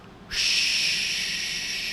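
A man imitates an airplane with his voice, producing a sudden, steady, breathy whooshing hiss that holds evenly for over a second and a half, close to the microphone.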